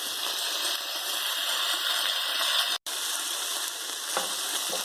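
Garlic sizzling in a frying pan with chicken, a loud steady fry with a brief cut near the end, no voices.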